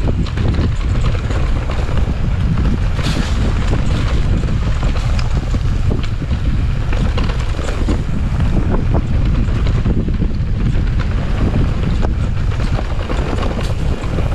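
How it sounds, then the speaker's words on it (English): Heavy, continuous wind buffeting a microphone during an electric mountain bike ride at Afan, with low rumbling gusts and hiss throughout; water and boat noise sit faintly underneath. "Pretty windy, yeah."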